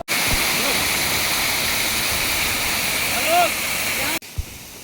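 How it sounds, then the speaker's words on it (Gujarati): Waterfall in the Dang hills, a loud, constant roar of falling water close by that fills the whole clip, with a brief voice over it before the sound stops abruptly. "આવડો આ ધોધ પડે"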